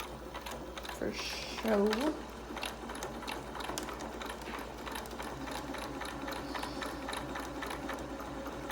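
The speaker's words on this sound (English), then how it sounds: "I'm gonna back stitch" Sewing machine back stitching a seam on a ribbon-tied fabric face mask, a soft, steady mechanical whir running under a voice that talks throughout.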